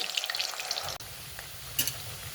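Potatoes drop into hot oil and set off a sudden, steady sizzle of frying that carries on close by, with a brief clink partway through.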